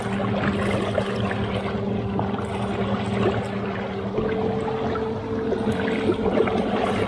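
A 12V trolling motor overdriven by a 24V battery pushes a small boat through water, giving a steady, close motor drone and hum with constant water wash, changing pitch slightly midway as the gear is raised.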